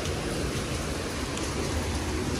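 Steady rain falls outside a balcony at a Jamaican beach resort, a dense, even hiss filling the air without pause, close and fairly loud with no voices.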